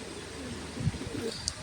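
A young racing pigeon squab with black tail markings coos softly in a loft in Trivandrum, giving low, murmuring coos near the middle of the clip and a brief faint high chirp near the end, all quiet and close without talk.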